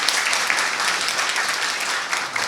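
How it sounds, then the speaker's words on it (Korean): Audience applause at a pain medicine society's autumn academic conference, a dense, steady wash of many hands clapping from start to finish, loud and even with no voices over it. "박수 좀 부탁드릴게요."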